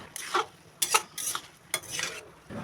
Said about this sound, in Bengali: আবারও নেড়ে চেড়ে দেব চেরা কাঁচা লঙ্কা